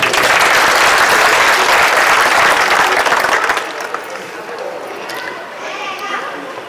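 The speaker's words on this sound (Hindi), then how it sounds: "जोरदार तालियां प्लीज।" An audience at a ward council candidate's society gathering bursts into loud, dense applause that carries for several seconds, then drops away to a quieter murmur of the crowd.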